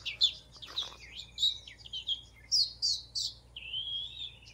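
A person whistles an imitation of a sparrow's chirping: a run of bright, quick tweets and trills in short bursts with brief gaps, ending in a longer warbled phrase, close and clear over quiet background.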